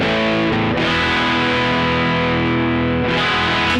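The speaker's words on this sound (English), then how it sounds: "Okay, so I've switched over to the dirty channel of my amp now." Loud, sustained overdriven chords ring from a Gretsch G5622T semi-hollow guitar with Bigsby on its bridge pickup, through the dirty amp channel at about two-thirds gain, with two quick re-strikes during a short burst.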